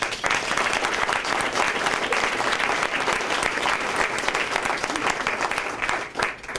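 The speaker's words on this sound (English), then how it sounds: "I'd like to give them a big round of applause" Audience applause at a celebration for a chronic pain management clinic at Hotel Dieu Hospital, a steady, dense clapping from a crowd that holds evenly throughout and dips briefly near the end.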